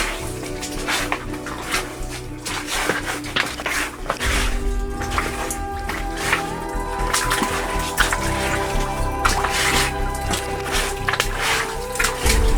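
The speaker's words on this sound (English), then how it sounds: "I don't know if that's raining or whether it's just water coming through." Water drips and trickles inside a rocky tunnel, scattered irregular drops landing close by over a steady low rumble, with no voices.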